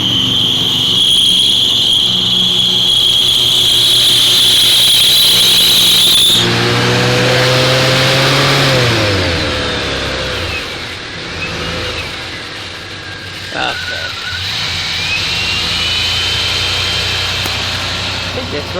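An old Chevrolet Suburban engine runs loud with a whining, squealing alternator belt, then the revs drop and settle into a lower idle that keeps going.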